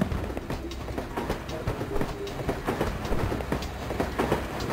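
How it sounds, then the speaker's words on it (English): A train passes in the Jackie Chan Stuntmaster video game, a loud continuous rumble with rapid clattering wheel clicks running throughout, no voices over it. "I don't know if a train's coming."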